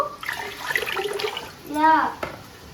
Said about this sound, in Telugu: రెండు బౌల్ వాటర్ వేసుకుంటాను